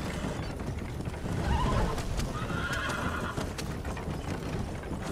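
A horse in Red Dead Redemption whinnies loudly over a dense rumble of pounding hooves, racing at speed close by.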